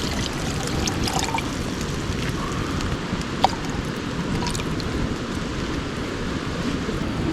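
A cup of water is poured into chicken bouillon powder at a creekside winter camp in the Arkansas Ozark Mountains, a steady splashing trickle that runs on without pause.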